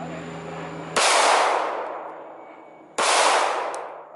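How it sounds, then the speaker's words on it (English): Two loud pistol gunshots about two seconds apart, each a sharp crack followed by a long, fading echo in an open space. "I fire the pistol and I have no pressure on this side"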